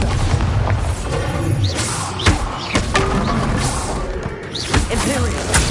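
Bombarda spell explosions in the video game Hogwarts Legacy, repeated heavy booms and thuds amid busy combat clatter, loud and close, with voices in the background.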